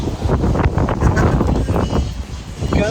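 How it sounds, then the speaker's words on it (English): Low, blustery rumble of wind buffeting a microphone, steady throughout with gusty swells, and a faint voice murmuring underneath. "It's very windy."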